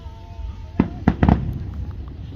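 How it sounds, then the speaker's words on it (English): Fireworks go off outdoors near trees and parked cars as three or four sharp, close pops in quick succession, with a faint background hum in between. "I thought most of the fireworks would be blocked by the trees"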